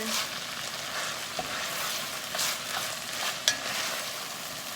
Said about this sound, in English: So I went ahead and added the garlic. Just gonna stir everything together.